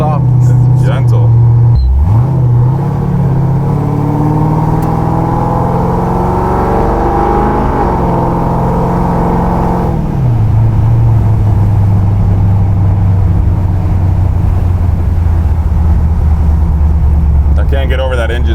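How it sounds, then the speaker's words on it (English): A restomod Corvette's engine drones steadily while driving, a loud low hum that shifts pitch as gears change, with someone talking over it throughout. "Can't get over that engine tone. It's just absolutely perfect."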